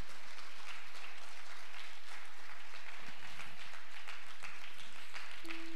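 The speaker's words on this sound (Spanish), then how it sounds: "Dale un aplauso al Señor con todo tu corazón." A church congregation applauds during a sermon, a broad wash of clapping heard at moderate distance, steady throughout with a slight swell partway through.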